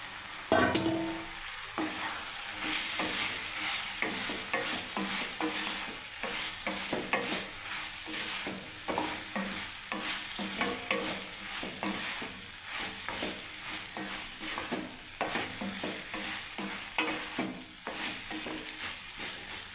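Okra pieces stirred in hot oil while frying, with a continuous soft sizzle broken by steady scraping strokes of a spatula against the pan, fairly quiet and close.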